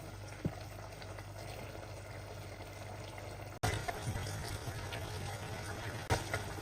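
Cola sauce for chicken wings simmering and reducing in a pan over high heat, a faint steady bubbling with a soft knock partway through.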